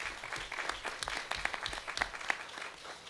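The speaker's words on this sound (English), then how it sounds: "So give them a round of applause as well." Fairly faint applause from a seated audience at a formal constitution release event, a few seconds of scattered, uneven hand claps heard from a distance.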